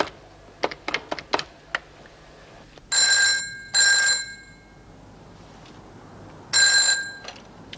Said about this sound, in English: Oh, damn, I better ring Pippa.